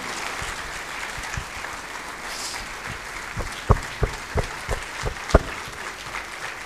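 Audience in a hall applauding during a memorial gratitude award ceremony, a steady wash of clapping with a few louder individual claps standing out near the end.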